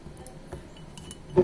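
A glass holding only a little water is lifted and set back down, a soft handling knock at mid-clip and a clearer glassy clink near the end, close and quiet in an otherwise still room.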